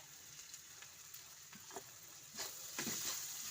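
Grated coconut sizzles in hot oil over medium heat while sambar masala is prepared, giving a steady soft crackle with a few louder spits toward the end.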